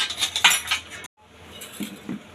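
Salt, turmeric and an onion-garlic masala being mixed together for a fish thali, with metal spoon clinks and scraping against a bowl that stop briefly, then softer mixing sounds resume, close by.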